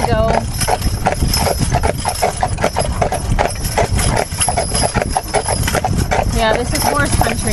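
Percheron draft horses' hooves clip-clop on a drive in a steady, loud, quick rhythm, with people talking over them throughout.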